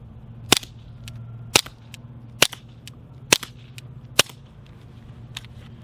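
A .22 firing supersonic rounds through a Bowers USS 22 silencer gives five sharp, snappy cracks, spaced about a second apart and close by, over a faint steady hum.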